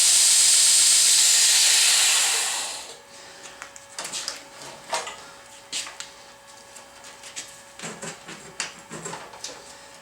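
A DSM belt grinder, running a worn belt previously used on titanium, grinds a half-inch steel bar with a loud, steady abrasive hiss for about three seconds, then cuts off, leaving scattered light clicks and taps.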